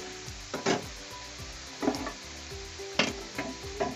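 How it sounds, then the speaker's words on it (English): Vegetables for fried rice sizzle over a high flame and are tossed quickly in a pan, bursts of louder crackle and metallic scrapes every second or so over a steady fry. "We have to toss the vegetables fastly."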